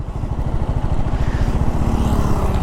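A TVS Apache RR 310 motorcycle engine revs loud and close with a rapid, pulsing low throb, held steady through a gear shift, with no talk over it.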